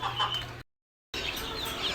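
Desi and Brahma chickens cluck softly in a brooder pen kept with quail, short low clucks nearby, broken by a brief silent gap midway.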